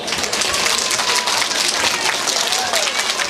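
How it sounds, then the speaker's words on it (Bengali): A school annual function audience applauds loudly and steadily, dense clapping from a large crowd filling the whole moment up close, with some voices mixed in beneath. "নিজেদের জন্য একটু জোরে হাততালি হয়ে যাক"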